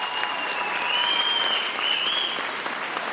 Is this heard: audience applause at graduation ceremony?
yes